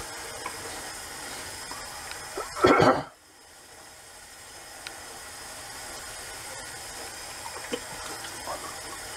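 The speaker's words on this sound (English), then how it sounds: "Cold water rinse." Cold water runs from a tap for a rinse after shaving, starting with a brief loud gush and then settling into a soft, steady trickle.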